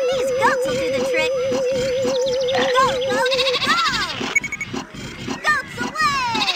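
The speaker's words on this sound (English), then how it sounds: "These goats will do the trick." Repeated goat-like bleats and cartoonish squeals over a busy, rhythmic game soundtrack with bouncing electronic effects, from the PC game PowerPuff Girls Gamesville.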